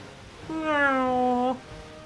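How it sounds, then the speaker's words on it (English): A single drawn-out cat meow from the Okami HD video game, clear and tonal, lasting about a second against a quiet background. "Where's that meowing coming from? I think it's coming from that tower."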